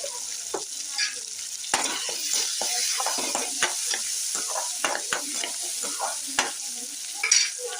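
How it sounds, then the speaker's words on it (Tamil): Tomatoes sizzle and crackle in a hot pan while a utensil stirs and scrapes through them in irregular bursts, close and steady. "பாருங்க, தக்காளி நல்லா வதங்குது"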